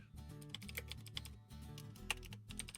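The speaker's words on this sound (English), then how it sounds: "I started typing raid Stardew Valley." Keys clatter on a computer keyboard in a quick, irregular stream of close, fairly quiet keystrokes, with no voices.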